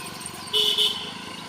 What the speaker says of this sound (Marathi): हॉर्नची पण प्रॅक्टिस करत आहेत त्या